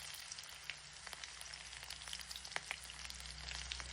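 Ginger-garlic paste and green chillies fry in hot oil over a five-spice tempering, a faint, steady sizzle with fine crackling pops and no one talking.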